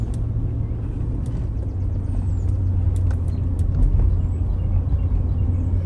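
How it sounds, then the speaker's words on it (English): A car passes on a rural country road near a barndominium on acreage, a steady broadband road rumble that swells slightly toward the middle and stays fairly close throughout, with no talk. "Now 5 o'clock, traffic gets really high out here."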